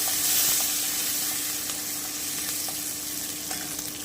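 Cashews, almonds and raisins fry in hot oil, giving a dense, even sizzle and crackle that holds steady and close throughout with faint stirring.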